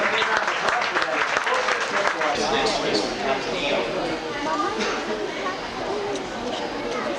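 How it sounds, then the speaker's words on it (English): A studio tour audience applauds, with dense, steady clapping from many people that holds strongly across the whole stretch, mixed with some crowd chatter. "let's give him a big round of applause for that"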